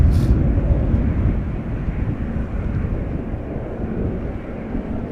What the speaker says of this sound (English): The Cargolux B744 arriving from Miami